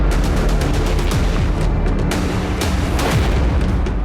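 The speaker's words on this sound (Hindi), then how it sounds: "यह धमाका उस नॉर्थ स्ट्रीम गैस पाइपलाइन में हुआ था" Heavy booming blasts at the Nord Stream gas pipeline, a dense, continuous roar of loud rumbling bursts and crackling impacts filling the whole stretch without pause.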